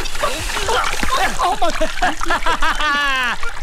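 Water gushes and splashes from a tap in a Hindi film scene, loud and close, mixed with excited overlapping voices talking and shouting.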